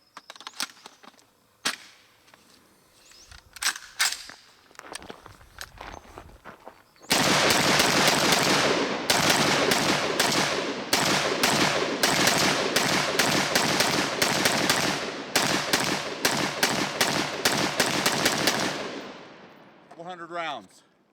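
A Para Marauder AR pistol from Karri's Guns fires its last magazine in rapid, loud bursts of gunshots with brief gaps, after a few scattered shots and low talk earlier.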